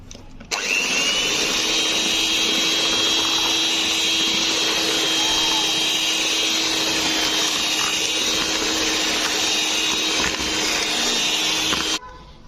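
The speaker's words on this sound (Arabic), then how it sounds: "ممكن نضرب المواد السائله دي مع بعض في الخلاط" A loud, steady electric blender whirs continuously for about eleven seconds mixing liquid ingredients for an orange corn cake, then cuts off abruptly.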